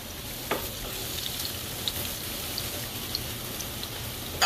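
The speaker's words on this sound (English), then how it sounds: "Stir it up." Food with paprika and parsley stirred in a frying pan, a steady close sizzle and crackle throughout, with a few faint scrapes of the utensil against the pan and no voices.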